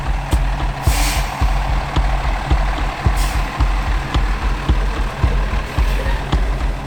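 A utility truck's diesel engine rumbles loud and close as it pulls out of a driveway, with a steady pulsing idle, repeated clunks and short bursts of air hiss over the drone.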